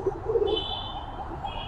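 Pigeons in a loft give soft, low cooing calls, a few murmured phrases near the start against a steady background hum, with faint chirps above.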